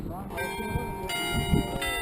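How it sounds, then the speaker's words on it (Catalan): Church bells ring at the mountain sanctuary of Núria, heard as a sustained metallic tone with overtones that persists across the whole short stretch while people talk nearby. "Les campanes de Núria estan tocant perquè s'estan acomiadant de nosaltres."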